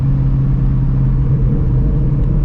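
A Shelby GT350 Mustang with a Ford Borla active exhaust rumbles steadily, its engine drone loud and close with a deep, even tone that holds for a few seconds, no voices over it.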